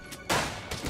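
Gunfire erupts during a gang war in the zombie game Night Terror: a sudden loud burst of shots, then a sharper crack shortly after, with a rumbling noisy backdrop and no talking.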